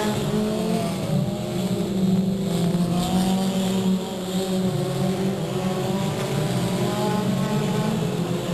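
Race cars on the final lap at Delta Speedway in 1998, a continuous loud drone of engines roaring around the oval, with pitch rising and falling as the pack passes, and no talk over it.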